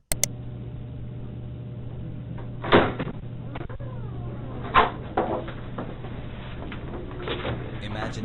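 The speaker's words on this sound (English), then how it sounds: "he will hear the sound of the door being opened by a detective" A detective opens a door into an interrogation room: two short knocking clunks about two seconds apart over a steady low room hum, with soft voices nearby.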